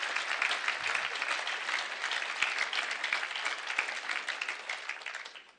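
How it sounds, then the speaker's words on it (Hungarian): Sustained applause from an audience at a Hungarian political annual address, dense steady clapping filling the hall, fading slightly at the end. "tapsolják meg rendesen"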